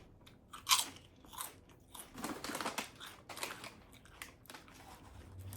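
Someone eating a tuna melt sandwich, with a series of close, crunchy bites and chewing in irregular bursts and no talking.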